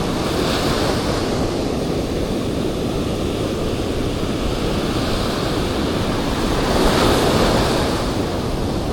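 Loud, continuous surf roars close by at Guiuan, Philippines, during shore fishing, with strong waves swelling and washing in under gusty wind noise on the microphone.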